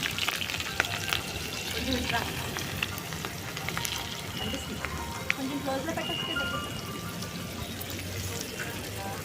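Onion and green chillies fry in hot oil with turmeric, a steady close sizzle and crackle with occasional stirring scrapes while someone talks over it.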